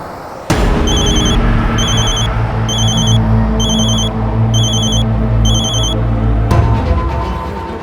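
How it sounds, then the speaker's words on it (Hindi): A telephone rings in a loud indoor scene, its electronic trill repeating in six regular bursts over a heavy low rumble that cuts off abruptly near the end. "जरूर ये उस ब्लैकमेलर का फोन होगा।"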